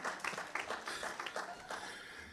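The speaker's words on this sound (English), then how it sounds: "Clap it up for him." Scattered applause from a small audience at a school board meeting, moderately distant and fairly soft, lasting a couple of seconds.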